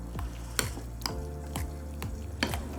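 A spoon mashing hot cooked eggplant for a Bengali mash, with regular knocks and scrapes against the bowl about twice a second over a soft, moist squelching bed, close and clear.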